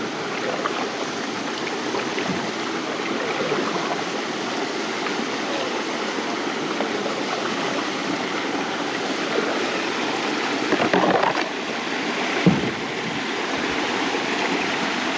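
A waterfall feeding a reservoir in Uwharrie National Forest pours and splashes steadily. The continuous rushing water sits close to a paddled boat, with a brief bump or splash near the end.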